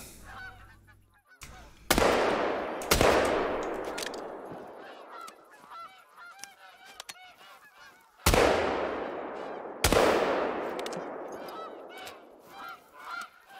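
Canada geese honk repeatedly in theHunter: Call of the Wild, a flock of calls under sharp, loud rifle shots that ring and echo away.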